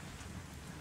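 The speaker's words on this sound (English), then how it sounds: "Yeah, look at that rain." Rainfall in the video game Crysis 3, a steady hiss of rain with a low rumbling undertone, faint and continuous over a brief moment.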